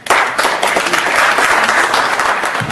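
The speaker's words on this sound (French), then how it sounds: "je vous prie s'il vous plaît de les accueillir avec quelques applaudissements" Close, loud audience applause welcomes a group of Congolese women at a gathering for the cause of Congo, a continuous wash of clapping from start to end.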